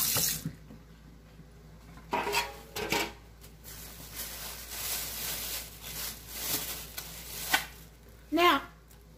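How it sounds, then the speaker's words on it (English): Hands being washed under a running kitchen tap during cooking prep, with a steady trickle of water broken by louder splashing bursts and a few clinks, close by. "Wash my hands."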